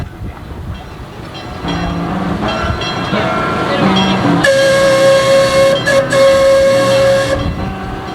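Steam train arriving at Calico, with a steady whistle-like tone sustained for several seconds over rumbling rail noise and hiss, fairly loud and close, no talk.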